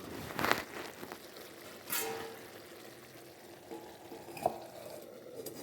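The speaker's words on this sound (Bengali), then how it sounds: "আমি ভালোভাবে নেড়ে চেড়ে দিচ্ছিলাম এরপর আবার ঢেকে দিব সিদ্ধ হওয়ার জন্য" A spoon scrapes and stirs potatoes in a covered pot, with a few distinct scraping strokes and a soft cooking hiss in between, close and fairly quiet.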